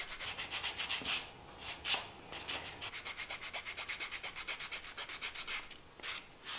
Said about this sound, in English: Now what we're going to do is we're going to take a piece of a buffing stick right here.